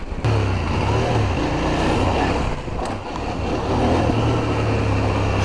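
A CFMOTO 800MT-X adventure motorcycle ridden off-road, its engine droning steadily and close with a low throbbing note that eases briefly midway before pulling again, with wind rush over the top.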